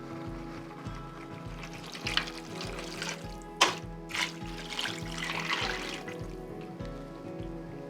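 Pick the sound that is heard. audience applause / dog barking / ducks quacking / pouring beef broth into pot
pouring beef broth into pot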